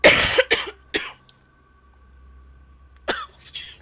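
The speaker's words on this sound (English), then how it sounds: "Conveniently well-placed coughing at the end" A person coughs in a few sharp, close bursts, three quick ones at the start, then a pause and two more near the end.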